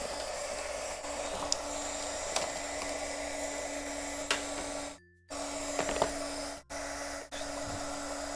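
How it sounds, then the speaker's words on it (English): Steady whooshing blower of an embossing heat tool running continuously, with a low hum, briefly cutting out twice before resuming. "So I'm going to go ahead and heat up my heat tool again."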